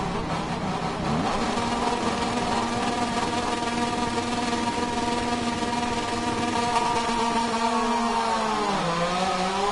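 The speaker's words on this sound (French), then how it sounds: "le Grand Prix Moto 2 qui est parti avec Sergio Garcia qui a fait un excellent départ sur le premier virage." Moto2 motorcycles launching off the grid at the start of a Grand Prix race at Motegi, a dense, loud blend of engines holding steady tones that then rise and shift together, with no talk over it.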